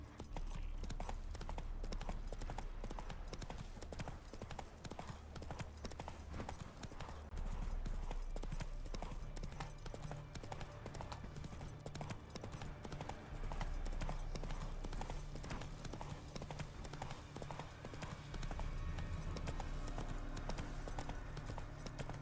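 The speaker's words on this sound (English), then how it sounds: "Not so fast, Roach." A horse galloping in The Witcher 3: Wild Hunt, rapid rhythmic hoofbeats on the ground throughout, fairly quiet and continuous, with occasional brief talk.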